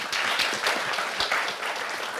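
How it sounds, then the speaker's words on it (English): An audience at a forum breaks into applause, dense rapid clapping from many hands filling the room, fairly loud and continuous for a couple of seconds. "Join me to give them a big round of applause."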